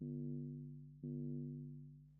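Deep, distorted sub-bass sweetener layer without a high-pass filter, two long droning notes with a gentle restart between them, steady, quiet and full in the low end.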